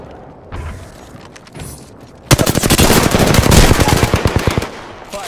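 Rapid automatic gunfire from a video game erupts suddenly after a quiet stretch, a loud close burst of tightly spaced shots lasting about two seconds before tapering off, with soft game ambience around it.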